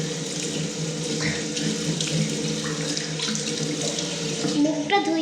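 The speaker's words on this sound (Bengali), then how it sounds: "এখন আমি আমার মুখটা ধুয়ে নিই।" Tap water runs steadily into a bathroom sink while someone washes their face, a continuous close splashing with small shifts as hands move through the stream.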